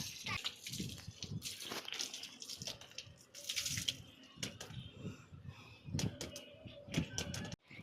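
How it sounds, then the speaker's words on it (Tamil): Water splashing and running while an old mountain bike is washed, with uneven gushes and spatters close by across the whole stretch. "தண்ணி ஊற்றிடணும்."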